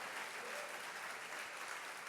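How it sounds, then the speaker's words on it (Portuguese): A church congregation applauds during a sermon, a steady, even patter of many hands clapping, moderately distant and continuous, with no voices standing out. "Pode aplaudir e dar um glória a Deus"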